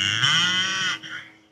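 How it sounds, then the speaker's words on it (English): A cow's long, loud mooing call, played as a sound clue in a podcast guessing game; one sustained low bellow that breaks off, followed by a short weaker tail. "He's been a cow for whatever reason."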